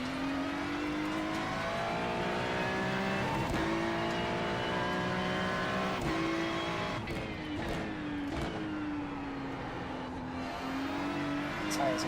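Worn tyres on a race car squeal in a racing video game, a sustained whining screech riding over a steady high-revving engine drone with shifting pitch through corners, continuous and close.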